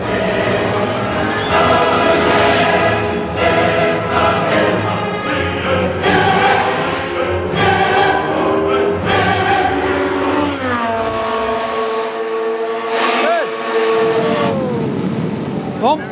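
A racing car on the Monza straight, a loud close engine roar with rising revs through the gears, then the pitch drops and fades as the car passes.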